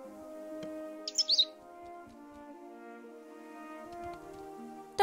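A cartoonish bird called Cheep Cheep from The Book of Unwritten Tales 2 gives a brief cluster of three or four high chirps over a soft steady musical background, close and clear.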